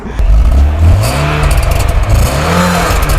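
A 2006 Zhiguli 7 car engine revs up sharply from idle, rising and falling in pitch through a few throttle blips, loud and close with a rough mechanical clatter.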